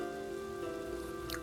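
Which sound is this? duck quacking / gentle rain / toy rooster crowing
gentle rain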